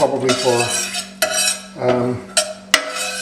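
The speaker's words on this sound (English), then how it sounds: "Give this a bit of a stir" Cardamom pods and cloves are stirred in hot vegetable oil, with a spoon scraping and knocking against the pan in a few sharp clinks over a faint sizzle.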